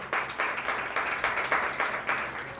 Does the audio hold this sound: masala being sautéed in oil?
no